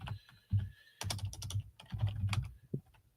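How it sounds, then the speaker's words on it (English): Fingers type on a computer keyboard, quick irregular clusters of close, crisp key clicks with short pauses between bursts. "Let's delete these names and let's start typing."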